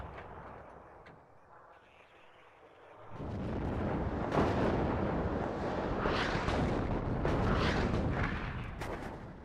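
Artillery battery in the WARNO wargame firing single rounds from each gun, a dense run of heavy booms and rumbling blasts that overlap into a sustained roar after a quieter opening.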